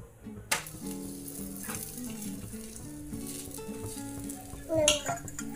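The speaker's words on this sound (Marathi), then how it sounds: "आता हा तवा गरम झालाय, त्याच्यावर आपण थेपला घालूया." Soft, steady sizzle of methi thepla flatbread cooking on a hot oiled griddle, with a few utensil clinks and scrapes under quiet background talk.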